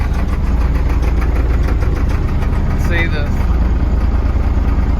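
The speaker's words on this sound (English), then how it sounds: "It's idling kind of low, around 500 or so. So it shakes a little bit" A 1989 International DT466 diesel dump truck engine idles low, around 500 RPM, and runs a little rough with a steady, continuous rumble throughout. Someone talks over it, and a brief higher whine surfaces near the middle.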